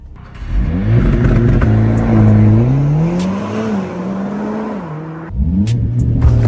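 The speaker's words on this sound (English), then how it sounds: "we're going to do a launch control in this car" A 500 bhp Mercedes CLA45S makes a launch-control start at night. The engine roars close and loud and climbs steadily in pitch, with a brief dip at a gear change near the end before it surges again. No one speaks.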